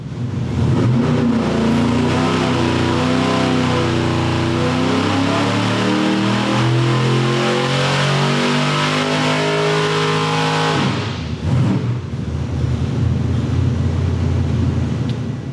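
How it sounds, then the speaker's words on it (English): A Ford car engine on a dyno revs steadily upward in one long, loud sustained pull through the RPM range, then drops off abruptly and settles into a rumbling idle. "make a nice clean pull all the way through the RPM range"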